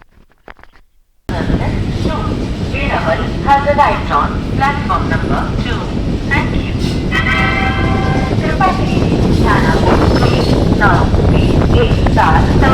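The Saurashtra Janta Express pulls away from a station with a loud, building rumble of wheels and carriages, a rhythmic clatter over the rails, and a person speaking over the noise.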